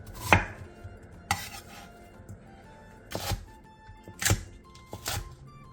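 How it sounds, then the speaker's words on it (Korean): Knife chopping onion, green onion, pear and cheongyang chili peppers into large chunks on a cutting board for Korean water kimchi, five or six sharp, separate thuds spread over a few seconds, close and fairly loud with no talk. "양파 4분의 3개, 대파 1개, 배 2분의 1개, 청양고추 6개를 큼직하게 잘라주세요"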